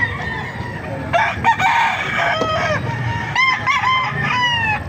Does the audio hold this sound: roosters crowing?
yes